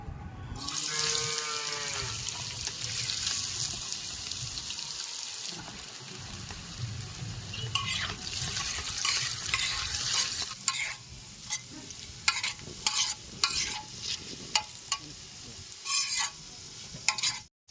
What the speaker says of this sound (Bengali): আলুগুলো ভেজে নেবো সব।